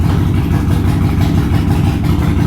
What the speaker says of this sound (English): Dude, it's shaking the crap out of this.